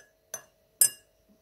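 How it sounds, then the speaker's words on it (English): A utensil knocks twice against a glass while stirring a food coloring mixture, two bright distinct clinks about half a second apart with a faint third tap, close and otherwise quiet. "I'm gonna give all these lovely food colorings a lovely stir"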